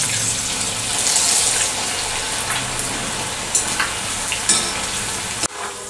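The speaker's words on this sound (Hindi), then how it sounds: "ये देखिए, एकदम गरम तेल में ही डालेंगे इसे। अब देखिए इसमें से आवाज़ आने लगी है" Noodles dropped into very hot oil in a kadhai to fry until crispy give a steady, dense, close sizzle and crackle with no break until a short change near the end.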